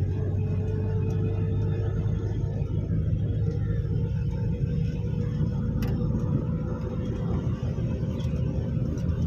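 A car drives straight ahead in third gear at around 40 to 45, giving a steady, unbroken low engine drone and road rumble heard from inside the cabin.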